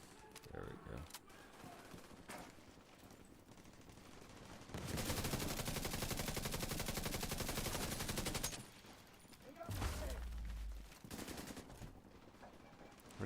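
Gunfire in the video game The Division 2: a long stretch of rapid automatic bursts, loud and continuous, with game sounds before and after and a player talking in between.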